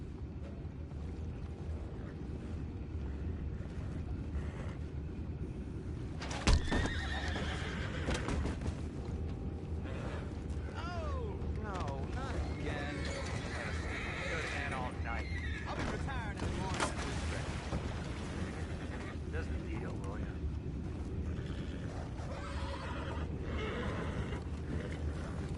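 Horses in Red Dead Redemption 2 give occasional whinnies amid faint hoof sounds and creaking, set within a continuous game ambience with a sharp knock early on and some speech in the background.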